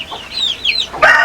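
A Black Australorp chicken clucks in a short burst at a farm, close and fairly loud, with a sharper squawk at the end.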